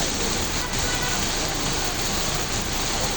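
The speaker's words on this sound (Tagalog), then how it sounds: "Yan, ganito ang sitwasyon ngayon, no, na ulan dito." Steady, dense rain falls outdoors on a rainy afternoon at a street food eatery, a continuous even hiss that fills the whole stretch without pauses or speech.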